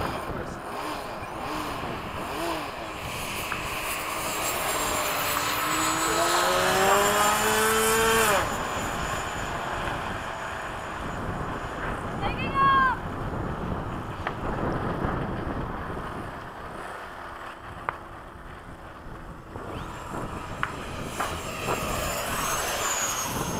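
An FMS 70mm F/A-18 model jet spools up and takes off from a runway, its rising turbine whine sweeping upward, then fading into a distant whoosh as it flies off, with wind rumble throughout.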